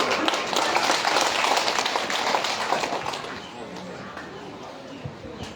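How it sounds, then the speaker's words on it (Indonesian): Applause from a crowd at an outdoor campaign event, loud dense clapping that gradually fades over a few seconds. "kita berikan tepuk tangan yang meriah"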